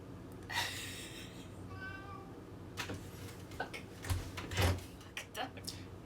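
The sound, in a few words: cats meowing as they come in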